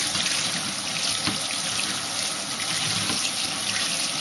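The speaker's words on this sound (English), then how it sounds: "you have to rinse it out in the sink very thoroughly, because you don't want dirt in your soup" Sink tap running steadily over mushrooms being rinsed in a strainer, a loud, continuous splashing rush of water close by with no talk.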